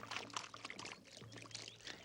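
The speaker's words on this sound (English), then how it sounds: "they heard the glugging sound of oil being poured over the wood" Oil glugs and pours over bonfire wood outdoors in a rhythmic, uneven stream of liquid gurgles, moderately faint and heard alone without talk.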